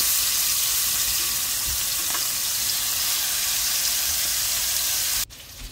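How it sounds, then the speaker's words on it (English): Chicken sizzles and crackles steadily in a hot pan, a loud continuous hiss that stops abruptly near the end. "while I'm frying my chicken"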